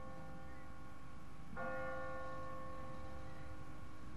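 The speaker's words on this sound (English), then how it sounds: "What kind of church bell goes off at 20 past the hour?" A church bell rings in The Walking Dead video game, one clear strike that swells in and hangs with a long resonant ring, heard alone at moderate distance against a faint background.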